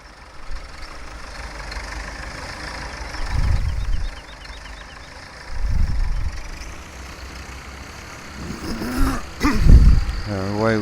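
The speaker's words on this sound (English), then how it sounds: "away we go with this tractor now" A tractor in Farming Simulator 17 runs at idle, then its diesel engine surges in several rough low bursts as it pulls away, with a voice talking over it.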